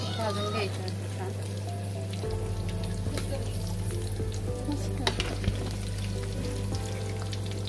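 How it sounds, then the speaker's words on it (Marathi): Food frying in hot oil at a gathering, a steady crackling sizzle running throughout with occasional pops, close and fairly loud, with a constant low hum beneath and a voice speaking over it. "अशा प्रकारे करून मी असं सोडलं तेलामध्ये भाजून घ्यायचं छान"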